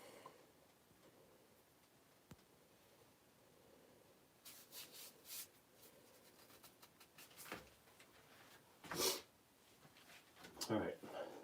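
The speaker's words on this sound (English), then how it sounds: "I am sanding in reverse." Scratchy rubbing of sandpaper against a wooden pen spinning in reverse on a lathe at 500 to 700 RPM, in uneven bursts growing louder toward the end, over a low machine hum.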